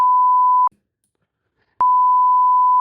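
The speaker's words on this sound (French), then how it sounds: "Ah, faut que je le rebip." Two loud, steady censor bleeps sound alone: a short tone, about a second of silence, then a second, longer tone, with no voices between them.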